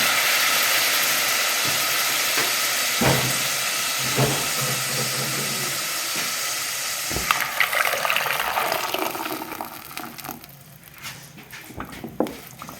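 Tomatoes tipped into a hot pan while cooking Egyptian fatta, a loud steady hiss and sizzle that gradually dies down, with a few clinks and taps as it settles and quiets.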